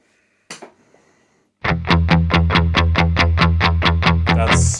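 A brief noise, a pause, then an electric guitar through a SIB Echodrive overdrive pedal set three-quarters up, chugging loud, distorted rhythmic strums in an even pattern.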